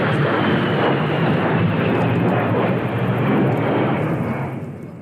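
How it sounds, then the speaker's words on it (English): A loud A-10 Warthog jet roaring past, a dense sustained rumble and hiss that holds steady and then begins to fade at the end, with no talking over it. "The A-10 Warthog is a loud jet fighter plane."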